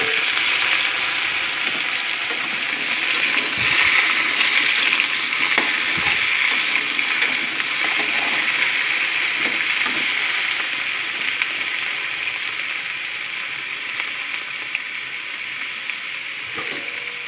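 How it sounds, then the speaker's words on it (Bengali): Mixed vegetables fry in a pan with dried red chillies and five-spice for a Malabar spinach curry, a loud, steady close sizzle with occasional stirring clatter and no talk. "সবজিগুলো ভাজা ভাজা হয়ে গেছে"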